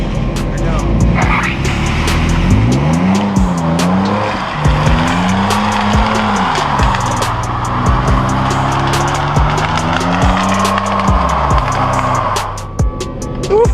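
A Toyota Tacoma pickup does a burnout, its engine revving loud and wavering for about ten seconds, rising and falling in pitch over steady tire squeal and rushing noise, then easing off near the end.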